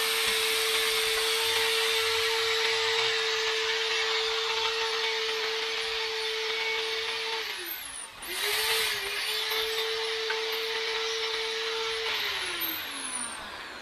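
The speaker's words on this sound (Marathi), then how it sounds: "हे जे 5 mm चे खिळे मी आणलेले आहेत त्यासाठी होल मी अगोदर मोठे करून घेतो." A power drill runs steadily as it widens holes in a wall for 5 mm nails. The motor whines for several seconds, dips briefly as the bit bites, then whirs again before winding down, close and loud with no talk.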